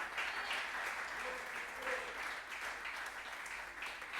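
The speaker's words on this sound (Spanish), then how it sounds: "Dele un fuerte aplauso al nombre del Señor Jesucristo en esta hora." A church congregation claps continuously, a dense, sustained applause heard from within the room, with faint voices underneath.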